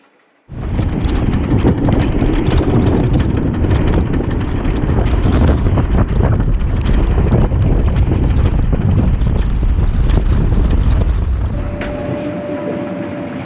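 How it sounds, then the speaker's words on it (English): Loud, sustained wind of gusts up to 56 knots roars and buffets the microphone aboard a sailing boat after a sudden onset, a heavy rushing blast that barely lets up, easing slightly near the end. "The maximum gust we have was 56 knots."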